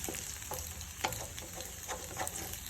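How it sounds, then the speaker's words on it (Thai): Macaroni coated in tomato sauce sizzles in a pan while a utensil stirs it, with soft scraping strokes recurring every half second or so over a constant frying hiss. "คนให้เข้ากัน ให้เข้ากันเลย ไล่ซอสมะเขือเทศไปให้หมด"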